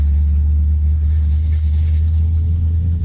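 A cammed 1977 Corvette V8 with a four-speed idles steadily while warming up, a loud, close, continuous low rumble with no revving and no talk.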